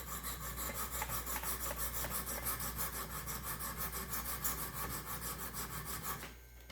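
Steady, rhythmic sharpening strokes of a blade on the stones of a Wicked Edge Gen 4 sharpener, a close, even series of about two dozen rasping scrapes, each stroke distinct, ending abruptly with no talk.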